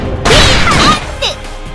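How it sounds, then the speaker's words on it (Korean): A magic missile fires in the video game Closers: a loud burst of crashing, whooshing impact noise with sweeping tones, then a shorter second zap that trails off. "마법적 발사! 마법의 미사일이야!"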